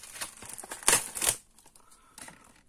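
Plastic wrapping on a scrapbooking package crinkles and tears loudly in a burst of rustling, with two sharp peaks, then fades to quieter handling and a last crinkle near the end.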